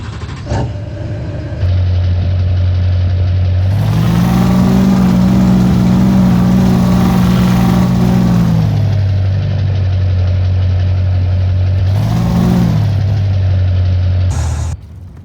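A Duramax truck engine in Farming Simulator 2015, idling loudly and steadily, then revving up and holding high before dropping back to idle, with another short rev near the end.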